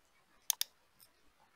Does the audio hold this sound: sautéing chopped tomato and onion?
no